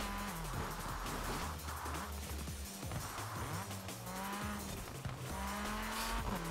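A racing car in Forza Horizon 4 brakes hard after a crest, tires squealing in repeated drawn-out screeches over a loud, continuous engine roar that rises and falls with gear changes.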